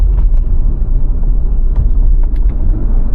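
A tuned Audi RS3 with no other mods roars under acceleration on a hot day, a loud, close, deep engine rumble that runs steadily throughout.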